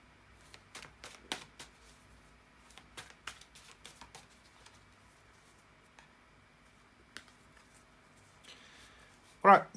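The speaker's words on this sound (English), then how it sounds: "bear with me just a second, guys, to shuffle the tarot cards" Cards are shuffled in quick bursts of crisp riffling and slapping, pausing between rounds, ending with a louder final shuffle up close.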